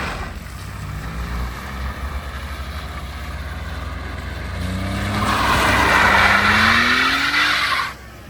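Suzuki Swift car doing a J turn at a racetrack, engine revving and rising, then tires skidding and squealing loudly before cutting off abruptly.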